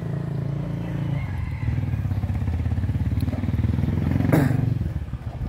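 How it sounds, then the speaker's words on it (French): Motorized tricycles rumble past in a barangay on Samal, a steady engine drone with a rhythmic putter that swells slightly near the middle, heard from moderate distance with faint clatter. "On entend les tricycles qui passent,"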